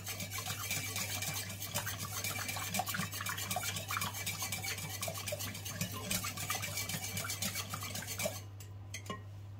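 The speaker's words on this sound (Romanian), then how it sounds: "Voi amesteca și uleiul." Olive oil being stirred into butter cookie batter in a bowl, a rapid, steady clatter and scrape of utensil against the bowl, continuing until it stops near the end, no talk.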